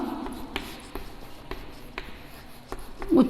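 Hand writing during a class 7 Hindi grammar lesson, soft scratchy strokes and taps spaced irregularly, fairly close and quiet, with a brief voice sound near the end.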